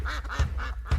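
Ducks quack in quick nasal bursts at Bear River Bird Refuge, several calls overlapping within a second, close and fairly loud against a busy wetland background.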